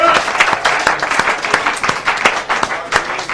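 A church congregation applauds, a dense, lively burst of many hands clapping in quick rhythm that fills the room, close and loud throughout.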